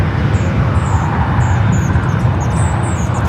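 A Lufthansa Airbus A380 taxiing at LAX gives a steady, loud, broadband engine roar with a constant low rumble, alone and unbroken throughout, with faint high whistling tones drifting above it.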